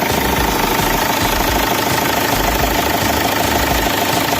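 The engine of a 2001 Land Rover runs steadily after starting, a loud, continuous idle with a low rumble that fills the whole stretch without any pauses.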